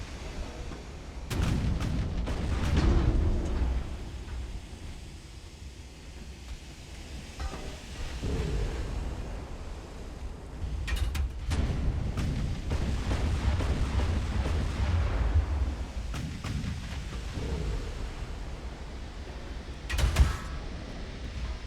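Heavy naval gunfire from enemy battleships in Ultimate Admiral: Dreadnoughts, with repeated deep booming salvos, some close and sharp and others rolling and distant, spread across a long battle stretch, with no talk.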